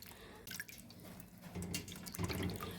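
Krachiao flowers are rinsed under a running tap, with soft splashing and dripping as water trickles over them in a sink, close by and fairly quiet.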